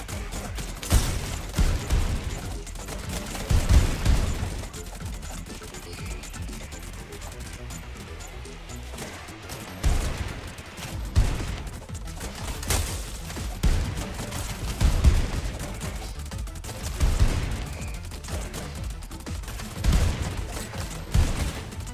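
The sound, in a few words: gunfire from shots fired in video game ENA Dream BBQ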